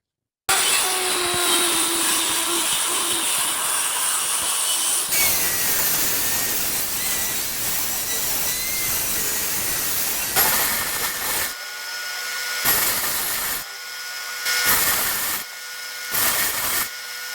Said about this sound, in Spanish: el siguiente paso fue cortar las tablas, darle el largo del triplex